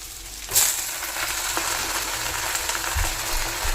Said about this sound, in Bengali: এটাকে ভালো করে নেড়ে ভেজে নিব